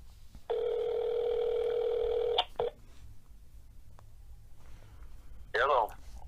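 A telephone call being placed: a long steady tone, a brief second beep, then a quick burst of dialing tones near the end, with faint room noise between.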